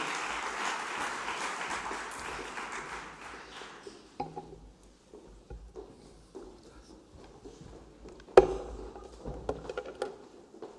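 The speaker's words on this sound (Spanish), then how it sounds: "Les pido un fuerte aplauso" A conference audience in Logroño claps in a full burst of applause that tapers off after about four seconds, leaving a quiet room with scattered bumps and shuffles.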